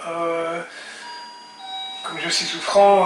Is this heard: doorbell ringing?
yes